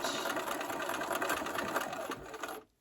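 A sewing machine hums steadily as it stitches a seam on a granny-square table topper, close and continuous for nearly three seconds before stopping abruptly.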